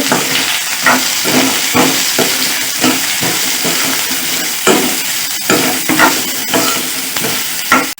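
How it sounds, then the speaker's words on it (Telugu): Two thinly sliced onions fry in a hot pan with oil, giving a loud, steady sizzle broken by repeated bursts of stirring scrapes throughout. "ఇప్పుడు ఇందులోనే సన్నగా కట్ చేసిన రెండు ఉల్లిపాయలు తీసుకొని ఫ్రై చేసుకోండి"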